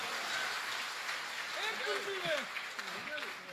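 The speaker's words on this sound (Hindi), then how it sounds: "देखो तालियां आपने बजा दी है" An audience applauds at a Hindi comic poetry gathering, a dense, steady wash of clapping that continues throughout, with voices audible over it.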